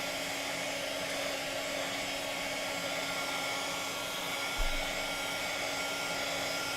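A heat tool blowing a steady loud whir without a break, drying smooshed ink on handmade cards, close up and alone the whole time.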